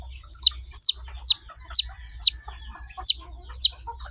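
Native farm chickens cluck in a steady series of about eight bright, repeated calls, fairly close, with a low hum running underneath and no talking.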